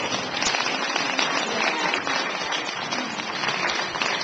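An audience at a single-payer health care forum claps for Organizing for America's Virginia state coordinator, a steady, dense patter of many hands sustained evenly without speech.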